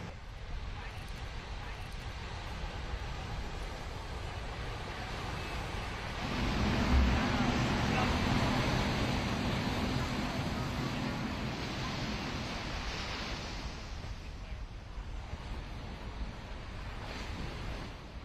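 Sea waves washing onto a beach, a continuous wind-blown roar of surf that swells in the middle and then eases. A narrator talks over it throughout.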